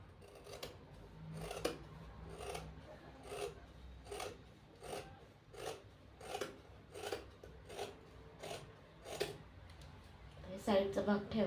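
Scissors snip through sari fabric while a lehenga skirt is being cut, giving a close, fairly quiet series of regular crisp cuts with a brief cluster of rustling at the end.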